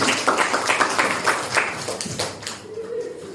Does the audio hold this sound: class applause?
yes